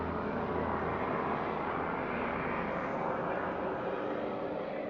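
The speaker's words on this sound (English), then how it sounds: "and yeah, there's a plane." An airplane flies overhead, a steady, moderately loud broadband roar that hangs evenly throughout without pause or speech.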